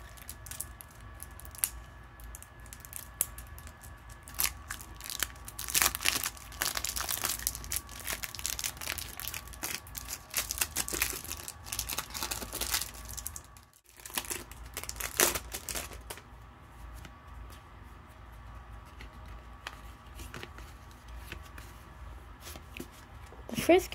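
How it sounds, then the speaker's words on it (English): Crinkling and tearing of the plastic wrapper on a regular 50-card Pokémon card pack, close and fairly loud, with rustling and crumpling bursts running throughout and a voice talking intermittently. "Let's open this regular 50 card pack."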